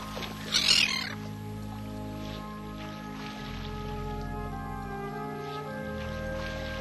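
Migratory birds resting in Shatsk National Park give a short burst of high chirping calls near the start, then fall quiet beneath a steady low droning hum.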